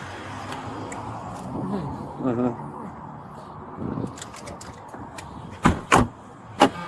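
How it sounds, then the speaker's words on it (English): A car door shuts with a couple of sharp thuds near the end, preceded by muffled talking and rustling nearby. "I'll close the other door real quick."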